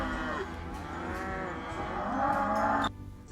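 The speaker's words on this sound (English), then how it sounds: "Cattle, by George" A herd of cattle moos in drawn-out, overlapping lowing calls, close and full, several animals sounding together before fading near the end.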